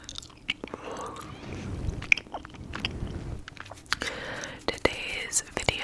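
Gum freshly popped into the mouth is chewed wetly and noisily close to the microphone, with crunchy snaps and juicy smacks, while a voice whispers softly between and over the chewing.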